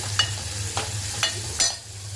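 A ginger, garlic, coriander and green chili paste fries in a pan for a potato curry, a low sizzle under four distinct spatula scrapes spaced evenly apart, with a steady hum beneath.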